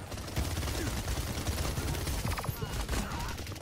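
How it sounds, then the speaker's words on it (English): Rapid machine gun fire from the video game Paladins crackles in dense, fast bursts at moderate loudness, with game effects and faint voices mixed in. "I hate when there's two freaking people with machine guns on the other team."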